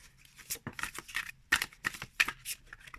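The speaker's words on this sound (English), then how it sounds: "I'm doing a rough shuffling here" Tarot cards being roughly shuffled by hand, with a quick run of crisp riffles and slaps in short irregular bursts, close and fairly quiet, with no talking.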